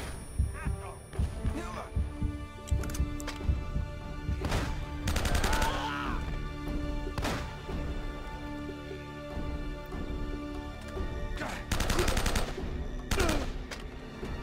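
Gunfire in the video game Uncharted comes in a few sharp, loud bursts separated by quieter stretches of game background hum and rumble.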